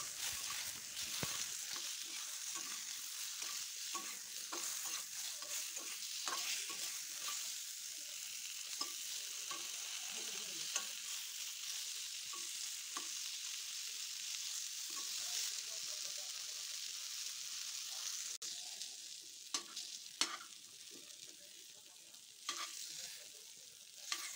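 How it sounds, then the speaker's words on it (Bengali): Sliced pointed gourd frying in a pan with salt and turmeric gives a continuous soft sizzle with scattered stirring scrapes, steady and fairly quiet, with no talking. "এখন আমি এই পটল ভাজার মধ্যে দিয়ে দিচ্ছি সামান্য একটু নুন, আর দিয়ে দেব সামান্য একটু হলুদ গুঁড়ো।"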